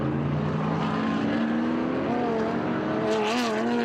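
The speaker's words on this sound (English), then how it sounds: "Both of them racing Chevrolet Corvettes." Chevrolet Corvettes from 1969 racing at a track, a continuous engine roar with rising pitch as the cars accelerate, loud and sustained, with a brief squeal near the end.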